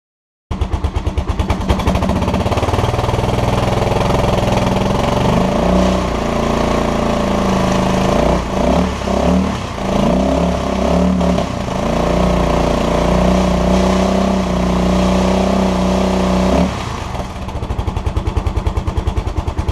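A 2015 Kawasaki KLR 650 single-cylinder motorcycle fitted with a Lexx exhaust starts and runs close by, a loud, throbbing idle with a few blips of revving in the middle before settling back to a steady idle.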